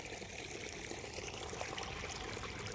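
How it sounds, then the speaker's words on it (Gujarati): Water runs from a farm tap into a container of herbicide mix, a soft continuous trickling and splashing stream, faint and steady with no talking. "અહીંયા નળ ચાલુ થઈ ગયો."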